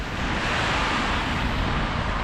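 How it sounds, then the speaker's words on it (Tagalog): Strong wind on an outdoor street in Canada, strong enough to break an umbrella, blowing as a steady loud broadband rush and buffeting the microphone, with no voices. "Lakas ng hangin."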